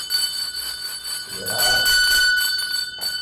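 A bell rings with a sustained metallic tone that swells in the middle, heard under and alongside a short spoken word.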